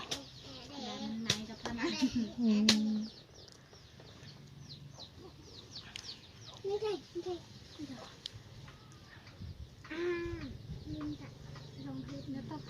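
Chickens cluck and coo around a rural Thai family home, several short calls scattered across the scene at close to moderate distance, with people talking nearby throughout.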